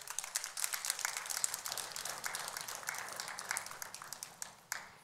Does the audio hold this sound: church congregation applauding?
yes